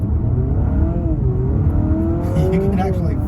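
A Honda Civic Sport Touring Hybrid sedan accelerates hard under throttle, its engine note climbing steadily in pitch over a heavy low road rumble heard from inside the cabin, with a voice speaking over it.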